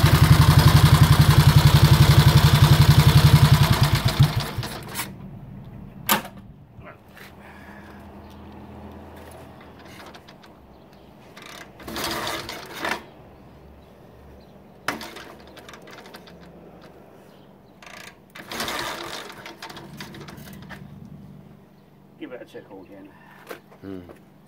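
A 1927 BSA B27 'Wedge Tank' 250cc motorcycle engine roars loud and close for about four seconds, then cuts out, leaving quiet talk and scattered clicks and knocks.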